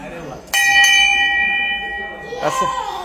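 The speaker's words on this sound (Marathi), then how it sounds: "चल वाजव घंटा" A child rings a temple bell at home for Janmashtami: a bright metallic clang, a quick second strike, then a long ringing decay, followed by another strike near the end, close and loud with voices around.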